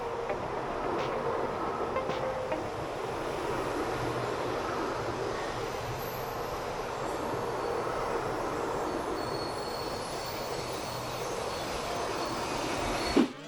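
Ride aboard a Taiwan high-speed train, a steady loud rumble and rushing hum of the carriage in motion, continuous throughout with a faint whine above.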